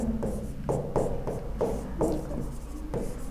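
Pen scratching across paper while working out a trigonometry solution, in quick repeated strokes with short pauses between them, close up with no talking.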